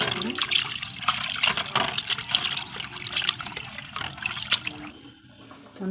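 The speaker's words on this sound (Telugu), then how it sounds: "శుభ్రంగా కడుక్కొని క్లీన్ చేసుకోవాలండి చికెన్." Raw chicken being rinsed in a bowl for dum biryani: running water splashes and sloshes up close, with steady irregular swishing and dribbling throughout.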